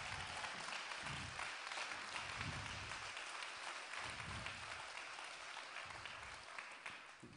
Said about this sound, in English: we think that artists really deserve huge applause from our side